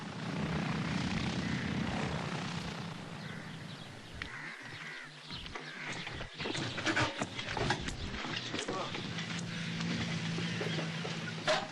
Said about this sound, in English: The steamy airport at Palma Sur, set deep in banana country near Costa Rica's border with Panama.